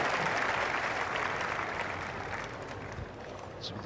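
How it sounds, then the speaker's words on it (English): Generous crowd applause fills a tennis stadium at a Monte Carlo 2000 semifinal, a steady dense clapping that holds for several seconds and slowly thins toward the end. "the crowd clearly thought it was good from the generous applause"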